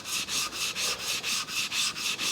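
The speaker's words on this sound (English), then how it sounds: "So I'm just flattening this stone now." A 220 grit sharpening stone being flattened by rubbing, giving a steady rhythm of gritty scraping strokes, about four per second, close and alone.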